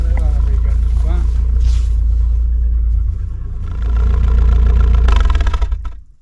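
A farm vehicle's engine rumbles low and steady as it backs up while firewood is gathered, swelling louder midway and then cutting off, with people talking nearby.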